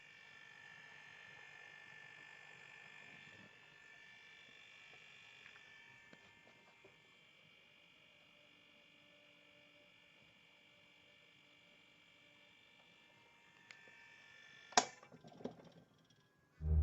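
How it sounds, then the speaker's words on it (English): A homemade silent air compressor built around an air tank runs with a low, steady buzzing hum, faint and even throughout, ending with a few sharp clicks and knocks near the close. "If all goes right, you will end with an air compressor like this."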